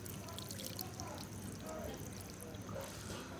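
Water pours steadily over washed rice in a pot, a soft continuous trickling stream heard close and fairly quiet, with faint background talk.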